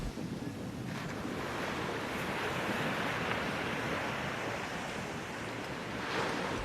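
Gentle Pacific Ocean waves roll onto a beach where surfers and boats ride in, a steady broad wash of surf mixed with wind buffeting the microphone, continuous and fairly distant.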